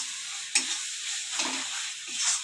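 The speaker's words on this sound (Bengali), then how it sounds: "মশলাটা আমি একটু ভালো করে কষিয়ে নেব" Spice masala with Kashmiri chili powder sizzles steadily in hot oil in a pan for a Bengali chicken curry while a utensil stirs it, giving a continuous hiss with brief scraping swells.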